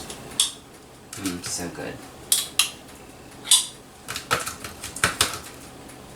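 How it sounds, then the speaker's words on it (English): A metal spoon scrapes and clinks against a container while digging out Roquefort blue cream cheese, giving a string of short, uneven scraping clicks close by, with a brief spoken comment partway through. "Just going to grab a spoon here and dig all of this out."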